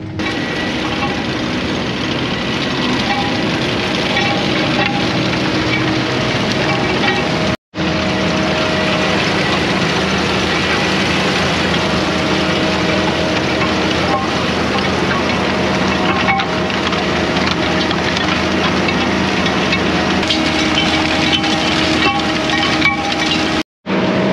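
A Vervaet beet harvester at work lifting sugar beet in a French field: a loud, continuous engine drone with rattling, crunching machinery noise throughout, broken by two brief cuts, with no voices.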